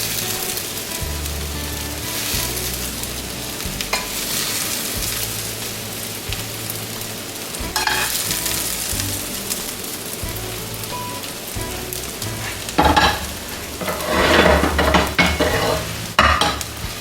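Onions for subs fry on a pan with a steady sizzle and stirring scrapes. Louder bursts of stirring come toward the end, with background music running throughout.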